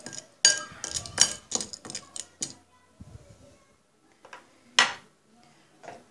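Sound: stirring popcorn kernels and salt in a bowl

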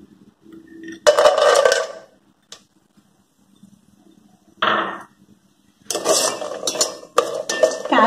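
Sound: stirring and frying cashews with cloves in a pan

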